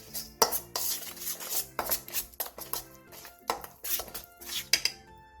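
Seasoning of ground sauce, chili powder, sugar and sea salt is tossed together in a bowl, giving a run of irregular clinks and scraping knocks of utensils against the dish, close and moderately loud, with no talk.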